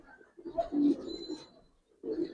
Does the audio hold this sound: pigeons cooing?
yes